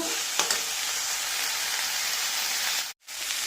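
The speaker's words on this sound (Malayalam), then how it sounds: "ക്യാപ്സിക്കവും സവാളയും പച്ചമുളകും എല്ലാം നന്നായി വഴന്ന് വന്നിട്ടുണ്ട്" Capsicum, onion and green chili sauté in a pan, giving a steady, close hiss of frying that runs almost unbroken, with a faint clink near the start and a brief drop to near silence just before the end.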